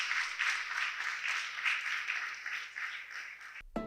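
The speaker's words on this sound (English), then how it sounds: "A round of applause for him." Applause from an audience at a speech on family values and generational solidarity, a steady wash of clapping lasting a few seconds before cutting off abruptly near the end.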